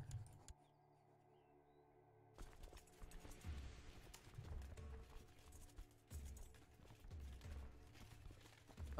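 Rhythmic clip-clop of horse hooves from the Crusader Kings II strategy game, a steady repeating beat of moderate loudness that starts after a quiet opening and carries on through the rest of the clip.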